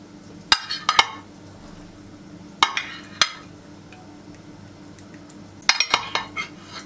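A metal spoon scooping thick yogurt from a container clinks sharply against it in three quick clusters of two or three taps each, with quiet pauses between.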